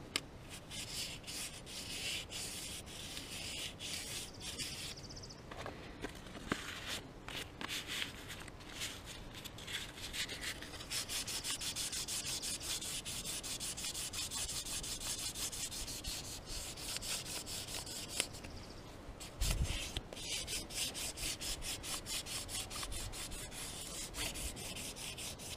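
Fine sandpaper rubbing over a metal boat trailer wheel bearing surface, a steady close scratching that keeps rhythmic back-and-forth strokes for a long stretch, with one short pause partway through.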